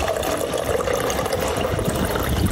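Cold water from a resort water dispenser at Henann Park Resort in Boracay fills a reusable water bottle, a steady continuous rush and trickle of liquid running close by without pause and with no talk over it.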